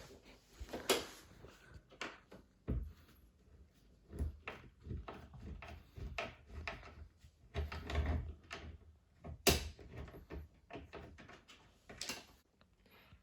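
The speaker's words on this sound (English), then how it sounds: "So to take off the door, pull it up and then pull it on your way" Clanks and knocks as the door of an AEG dishwasher is lifted and pulled free, a run of irregular close thuds, rattles and scrapes from plastic and metal parts with no talk.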